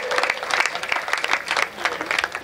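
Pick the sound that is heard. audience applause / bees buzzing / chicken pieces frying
audience applause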